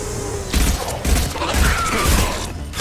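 Heavy weapon fire in the Mass Effect 2 video game, a run of loud, dense booming blasts in quick succession with rolling low-end thumps throughout.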